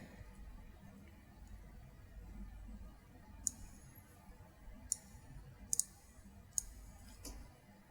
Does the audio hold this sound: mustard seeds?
no